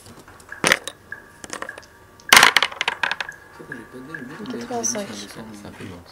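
Two dice clatter sharply onto a hard surface in two quick bursts during a Warhammer tabletop game, rattling briefly before settling, followed by a person talking nearby.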